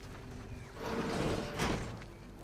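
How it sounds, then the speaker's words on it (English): A door opens and closes in the video game The Outer Worlds 2, heard as a muffled mechanical sliding thud and swell that lasts about a second over a low ambient hum, with no talking. "I heard a door over there."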